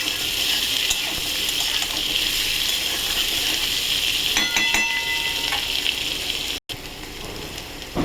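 Diced potatoes sizzle loudly in oil in a pan, a constant close hiss with intermittent stirring clatter, cut by a brief silent gap near the end before the frying continues.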